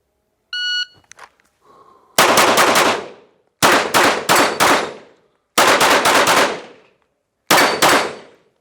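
A pistol fitted with a heavy recoil spring fires four rapid bursts of several shots each, loud and close outdoors, after a brief electronic beep at the start.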